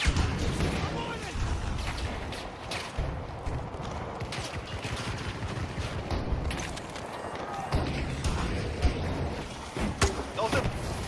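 Battlefield 2042 combat with a thrown grenade's explosion mixed into dense, continuous gunfire and booms, with players talking over the chaotic battle.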